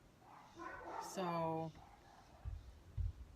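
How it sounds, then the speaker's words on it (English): Two short dog barks sound a little way off near the end, soft and low, after someone speaks close to the microphone. "now you can hear my dogs barking"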